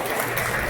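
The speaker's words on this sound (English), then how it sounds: "give Chris a round of applause" A crowd at a town hall Q&A with a gubernatorial candidate in Pagosa Springs applauds in a brief, even burst of clapping.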